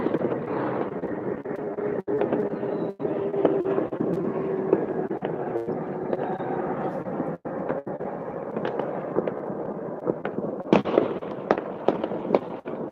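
New Year's Eve fireworks over a town in Poland, distant booms and crackles popping irregularly over constant wind rumble and a faint aircraft drone.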